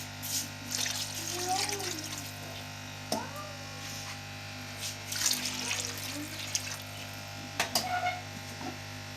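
About 2.5 litres of water pouring into a pot for chicken biryani rice, a steady close rush over a constant kitchen hum with a few clinks and knocks; a voice talks partway through.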